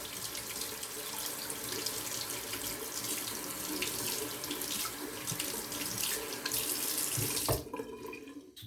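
A tap runs steadily into a sink while lather is rinsed off a razor, a continuous close splashing water flow that cuts off abruptly near the end.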